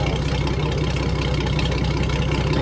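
A 1955 Chrysler Crown M47-S marine engine, freshly overhauled, runs at a steady idle close by, its low, even rumble continuous and unchanging with no talk over it.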